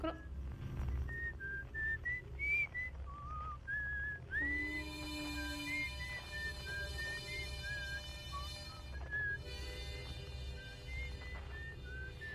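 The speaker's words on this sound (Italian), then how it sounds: "Poi dovrebbe esserci un fischietto di Esker." Esker whistles a wandering melody in the video game Outer Wilds, clear pitched notes rising and falling over a low ambient hum, with a sustained tone entering midway and the tune continuing faintly.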